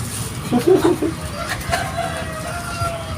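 A rooster crows once, fairly close, over a low background murmur, followed by a faint lingering tone.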